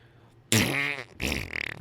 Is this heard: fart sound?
yes